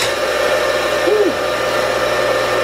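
The electric motor of a homemade 2x72 inch belt grinder running after rewiring, a steady hum with a whine that lasts the whole time and a brief tonal rise partway through.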